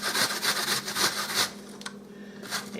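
Onion grated on a metal box grater, several rhythmic rasping strokes in quick succession, close and fairly loud, followed by a quieter pause and one more scrape.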